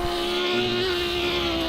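Glitching engine sound from a BMW Z4 GT3 car in Project CARS racing at Road America, a steady, buzzing drone held at one pitch with a harsh, boat-like whine and no rise or fall.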